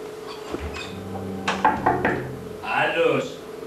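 Knocking on a toilet door in a Greek comedy show, a few sharp raps mixed with muffled thuds, heard close under overlapping talk.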